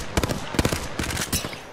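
Gunfire in a video game comes in quick bursts of sharp automatic shots, several rapid clusters spread across a couple of seconds at moderate volume.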